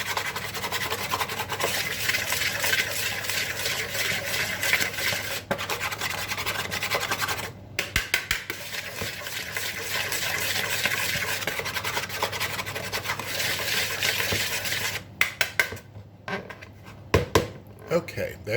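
Dry ingredients, cocoa powder and salt, mixed in a bowl with steady close scraping and rubbing that pauses twice before a few sharp knocks at the end.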